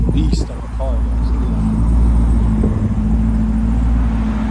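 2018 Dodge Durango SRT with the 6.4-liter engine, Vibrant resonators, X-pipe, rear delete and 5-inch tips, idling with a loud, deep, steady rumble, brief voices near the start.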